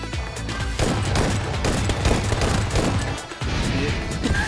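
Video game combat with sustained rapid gunfire and heavy blasts, dense and loud throughout with a brief dip near the end.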